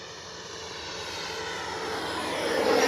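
A Freewing MiG-29 Fulcrum twin 80mm electric ducted-fan RC jet makes a low gear-down pass, its steady whooshing fan roar growing gradually louder as it approaches.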